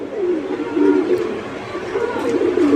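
Several pigeons in farm cages, Lahori and other breeds, coo close by in overlapping, rolling throaty calls that keep going continuously and fairly loud throughout.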